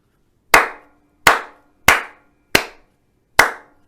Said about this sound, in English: if the beat is not steady and you're clapping, it sounds like this